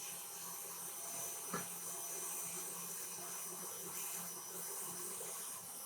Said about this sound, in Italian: Facciamo montare per pochi minuti fino ad ottenere una giusta densità.